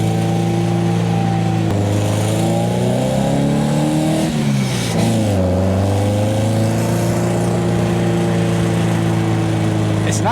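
A Westfield sports car's engine revs hard through its exposed exhaust, a loud, steady roar that climbs, dips briefly and builds again over ten seconds, heard close up from the open cockpit.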